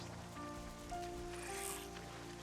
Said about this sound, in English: I hate the rain.